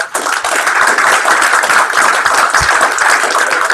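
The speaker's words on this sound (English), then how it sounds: "So round of applause for Ben." Audience applause at a game studio's greenlight pitch event, a dense, steady wash of many hands clapping that stays loud throughout with no voices on top.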